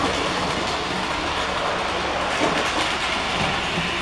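A toy diesel engine runs along its model railway track, giving a steady, close mechanical whir and rattle with faint clicking that stays unbroken for the whole stretch.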